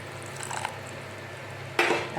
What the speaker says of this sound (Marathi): आता तितून हांव उदक घालता.